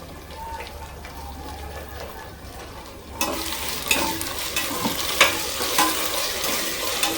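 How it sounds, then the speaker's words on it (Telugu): Ginger paste ground with turmeric fries in a hot pan, a steady sizzle that jumps louder midway as stirring begins, with scraping clatters over a low background hum. "అల్లం పచ్చివాసన పోయే వరకు ఫ్రై చేసుకుందాం."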